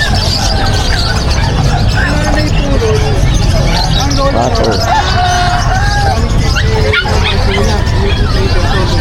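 A puppy yaps and whimpers in high-pitched bursts amid a busy outdoor market crowd, with babble and voices running underneath throughout.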